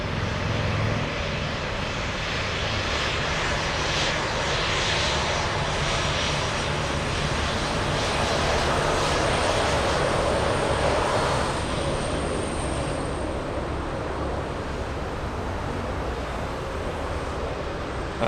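A Lufthansa airliner departing Frankfurt Airport for Wrocław gives a steady, broad jet engine roar that holds loud and unbroken throughout, swelling slightly in the middle before easing.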